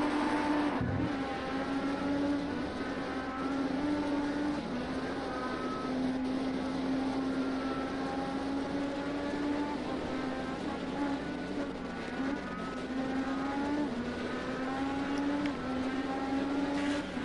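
IndyCar engines in a sim racing video game, a sustained buzzing drone whose pitch rises and dips slightly as the car runs, with a second engine tone layered underneath. It continues unbroken for the whole stretch.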